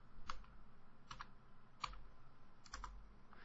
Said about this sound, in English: so I can type it in